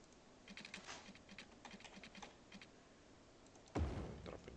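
Computer keyboard keys clatter in quick irregular bursts of typing close by, ending with a louder thump as something is set down.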